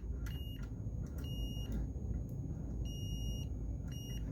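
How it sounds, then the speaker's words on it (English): Several short, high electronic beeps from a pinball machine's barrel spring sound in an irregular pattern, some single and some in quick pairs, over a low background rumble. "barrel spring is beeping"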